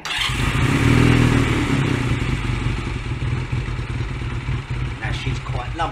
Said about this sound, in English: I'm now going to try and start the bike and see what happens.